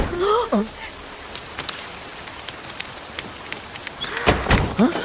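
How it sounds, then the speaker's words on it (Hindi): Sudden rain pours down steadily as a continuous broadband hiss, with a few brief thuds and people talking at the start and end. "ऐसे ही अचानक बारिश आ जाती है क्या?"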